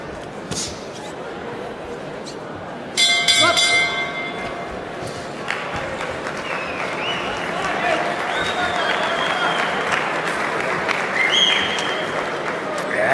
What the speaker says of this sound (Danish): Sådan lidt blandede, sporadiske klapsalver her, hvor publikum for alvor er begyndt at trænge ind i Brøndbyhallen.